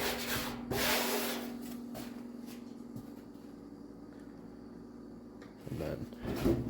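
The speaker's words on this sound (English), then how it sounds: "I'm spraying more air than it's putting out, so you do have to kind of stop every little bit and let the compressor build back up." Compressed-air sandblasting on rusted fenders of a BMW E46, a hissing blast in short bursts that pauses while the compressor builds back up, with quieter gaps and clunks between.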